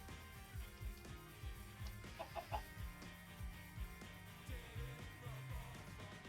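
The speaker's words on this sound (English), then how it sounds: "This chicken is still here." Game chickens in Minecraft cluck in short, low, repeated bursts at an uneven rhythm, soft and steady over a faint background hum.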